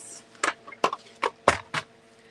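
Scissors trimming a Christmas card kit piece, snipping away a snow section: five short, crisp cuts in an uneven rhythm, close and fairly quiet, with no talking.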